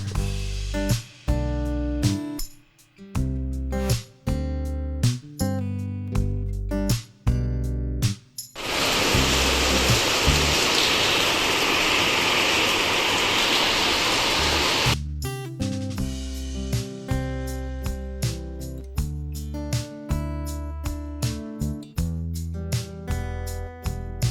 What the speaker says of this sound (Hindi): बाहर मैंने आपको दिखाया इतनी ज़ोरों की बारिश आ रही है